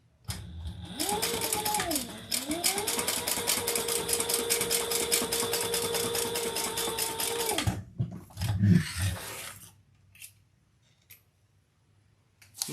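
Sewing machine running steadily for about eight seconds while top stitching a seam an eighth of an inch from the edge, with a motor whine that rises and settles, followed by handling noises as it stops.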